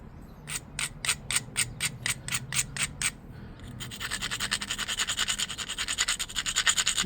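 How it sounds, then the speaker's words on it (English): Stone arrowpoint edge being ground on an abrasive, first in about ten short separate rasping strokes, then in a fast continuous scraping run, close and fairly loud. "Okay, I'm going to grind it."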